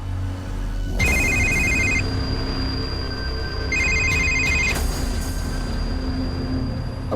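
A telephone rings in two bursts of trilling electronic tones, a pause between them, over a steady background hum with no answer.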